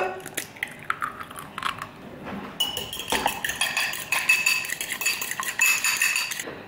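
An egg goes into a bowl for a chocolate mug-cake-style batter as cutlery and dishes clink repeatedly, with sharper, busier clatter in the second half; no one speaks.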